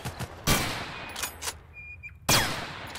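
Bursts of gunfire in the shooter game Total Conflict: Resistance, with several sharp, loud shots spaced irregularly across a few seconds and a rattling full burst near the end, with no talk.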